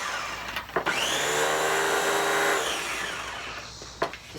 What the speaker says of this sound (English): And then I'm just going to emulsify it, and then I'm going to have a creamy cilantro.